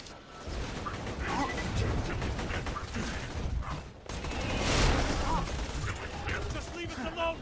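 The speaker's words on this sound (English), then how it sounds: "I'm hearing more gunfire than usual." Dense bursts of rapid video game gunfire and crashing effects fill the scene, with an ongoing rumble and mechanical clatter.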